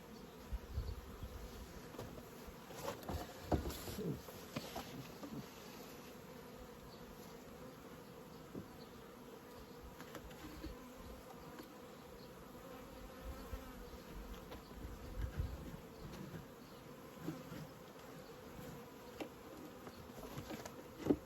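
A honeybee swarm is moved into a hive, giving a faint, steady buzzing hum of many bees with occasional soft knocks and handling noises.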